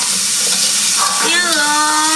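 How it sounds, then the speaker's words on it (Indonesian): Ingredients stir-fried in a pan until half cooked for tofu claypot and fried vermicelli with meat, giving a loud, continuous hissing sizzle throughout, with a whining tonal sound emerging over it in the second half. "Tumis ya sampai setengah mateng."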